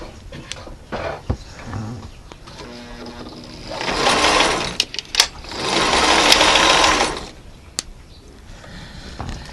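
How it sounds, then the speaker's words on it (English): A sewing machine runs in two sustained bursts of rapid, rattling stitching, close by, separated by brief pauses and small mechanical clicks. "Be careful if you're using your sewing machine or somebody else's sewing machine."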